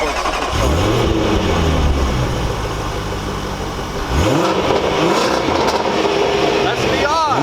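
Range Rover Sport engine revved hard several times, each rising and falling sweep loud and close, with a deep throaty exhaust between blips and a person talking over it.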